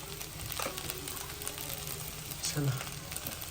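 Chinese fried rice sizzles quietly in a home kitchen pan as it is stirred, a soft continuous hiss broken by a few scraping stirs, with a voice faintly present underneath.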